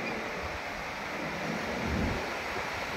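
Continuous surf rolling in at a beach in Urbistondo, San Juan, La Union, with wind noise on the microphone and a slight swell in loudness near the two-second mark.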